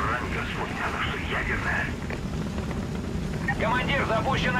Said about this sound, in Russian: Вижу вертушки!